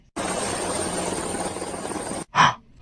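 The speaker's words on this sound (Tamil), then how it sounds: "என்ன ஹெலிகாப்டர் சத்தம் கேக்குது?" A loud, steady helicopter roar fills the air for about two seconds, then cuts off abruptly, followed by a short breathy burst.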